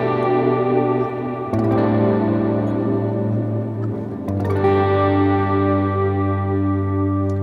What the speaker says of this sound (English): I sometimes like to put a little bit of a chorus on there